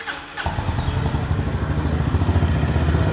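A Honda CB350 RS motorcycle starts up and idles close by, its engine and exhaust settling into a steady low thumping rumble that builds slightly in loudness, with no talk over it.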